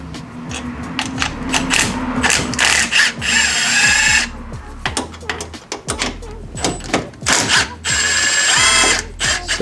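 An 11 mm ratchet wrench works a 90-degree fitting loose on a Nissan 350Z, giving rapid rattling clicks in repeated bursts with metallic clanks and shuffling in between, close and fairly loud.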